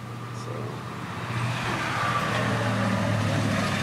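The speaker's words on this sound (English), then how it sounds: "And a UPS truck." A UPS delivery truck drives past a downtown Lake Worth rental property, its engine hum swelling from moderate to louder and closer as it goes by, with a person speaking over it.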